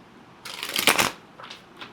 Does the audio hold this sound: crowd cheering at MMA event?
no